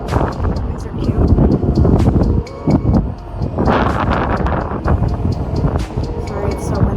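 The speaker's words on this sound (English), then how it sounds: "Sorry, it's so windy." Strong wind buffeting the microphone outdoors at a plant nursery in early fall, loud rumbling gusts that rise and dip in waves, with brief gaps and rustling, no clear talk.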